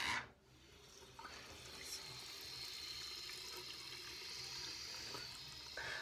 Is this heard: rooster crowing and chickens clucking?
no